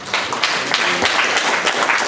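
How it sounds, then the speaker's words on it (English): A congregation at a church service applauds together, a dense steady wash of clapping filling the whole moment at fairly close range, with no clear talk over it. "just give Jesus Christ a round of applause on his behalf"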